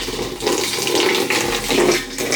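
Water rushes into a campervan's freshwater tank with a loud, steady gurgling flow that swells and dips briefly.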